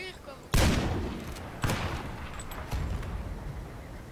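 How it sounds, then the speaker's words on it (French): Explosions in the online shooter Lead and Gold: two sharp, loud blasts about a second apart with a booming low tail, followed by a fainter third burst and rumbling game noise. "Oh, oh les explosions."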